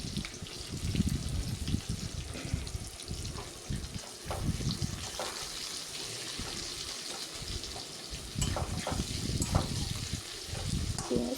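Sliced onions fry in hot oil with whole garam masala, dried red chillies, bay leaves and whole cumin, giving a steady, dense sizzle close by. Scraping and stirring sounds run through the frying.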